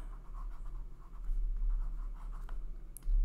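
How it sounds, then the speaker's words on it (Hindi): A pen or marker scratches and taps across a board or paper in a Class 8 maths lesson on cubes, making soft, irregular writing strokes up close. "फर्स्ट तो हमें यहां पर लिखना होगा"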